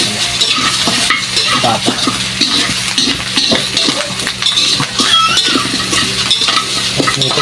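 Pork pata frying in its own rendered fat at a street vendor's stall, steady loud sizzling and crackling throughout with occasional utensil clatter; one short spoken word.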